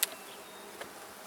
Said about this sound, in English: Oh yeah, a lot of bees in there.